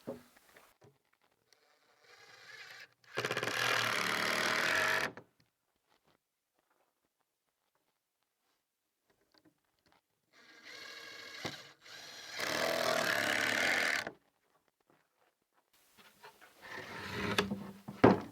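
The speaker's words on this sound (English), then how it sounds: "So I'm just going to put a bunch of screws in this" Screws driven one after another into plywood while building a wooden seed sorter, in three loud sustained bursts of a few seconds each with quiet gaps between them.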